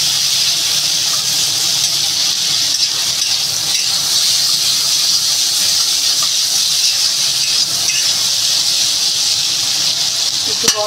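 Pointed gourd slices frying in a pan with a black cumin tempering and a pinch of sugar: a loud, steady, continuous sizzle and hiss that stays even throughout.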